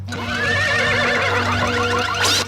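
A robot horse in a cartoon lets out a loud, wavering whinny with a synthetic, warbling edge, one sustained neigh lasting a couple of seconds, heard alone and close.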